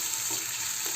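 Onions fry in a tadka kadhai as they turn brown, giving a steady, close, dense sizzle that fills the whole second.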